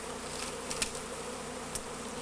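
A honeybee swarm gathered around the queen on a tree limb fills the air with a faint, steady drone, broken by a couple of brief rustles, no voices.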